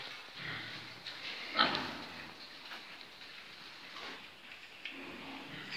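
Piglets on a farm pig complex grunt and oink in short, soft bursts against a steady rain-like hiss, one louder squeal-grunt near the start standing out.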